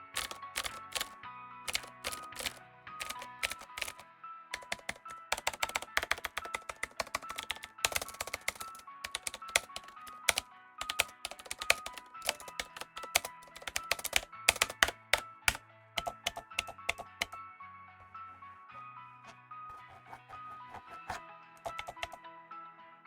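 Typing on a Qwerkywriter retro typewriter-style mechanical keyboard fitted with Cherry MX Blue switches: rapid, sharp clicky keystrokes in uneven bursts with brief pauses, close and crisp, occasional heavier thunks from larger keys, no voices.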